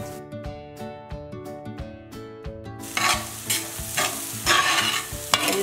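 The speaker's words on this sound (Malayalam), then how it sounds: "എല്ലാം നന്നായിട്ട് ഒന്ന് ഇളക്കി കൊടുക്കാം." Kachori filling is stirred in a pan after lemon juice goes in. Music plays alone at first, then loud, close scraping and frying bursts follow in uneven strokes.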